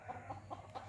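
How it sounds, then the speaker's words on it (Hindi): Chickens on a farm cluck repeatedly in agitated warning calls, four short evenly spaced bursts over a steady low hum, fairly close and moderately loud. "मुर्गी शरीफ की आवाज़ आप सुन रहे हैं,"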